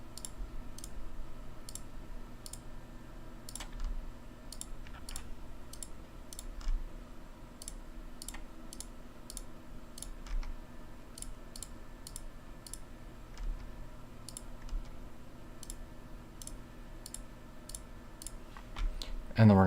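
Computer mouse clicks ticking checkboxes one by one while setting up a card game online, sharp faint clicks in an irregular series over a low background hum.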